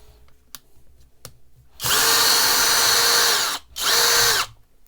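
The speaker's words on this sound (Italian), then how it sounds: "proviamo ad avvitare questa vite da 6 mm per 80 mm di lunghezza" A Parkside Performance 12V cordless screwdriver, clutch set to 20, drives a 6 mm by 80 mm screw. There are a few faint taps, then a loud, close motor whine for nearly two seconds, a short pause and a second burst.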